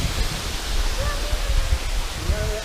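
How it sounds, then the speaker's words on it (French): A waterfall near Sun Moon Lake in Taiwan, by the Formosan Aboriginal Cultural Village, gives a dense, steady roar of rushing water close by, with no other sound standing out. "On est déjà accueilli par une première cascade ici"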